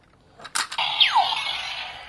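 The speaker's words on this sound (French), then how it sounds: "ça c'était le bruit de désassemblage" Electronic sound effect from a Sentai toy robot, ZenkaiOh VrooMagine, as it disassembles: a few clicky bursts lead into a bright sweeping whoosh that drops in pitch over a steady synthetic tone, played close and moderately loud.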